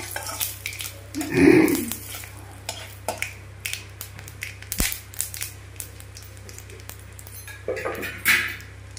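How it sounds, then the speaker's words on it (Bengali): Shahi paneer being stirred with a utensil in a pan, scraping and clinking against the metal in short irregular strokes, fairly close and moderately loud, with one heavier knock early on and no talking. "এভাবে নাড়তে থাকবো।"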